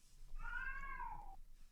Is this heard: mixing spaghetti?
no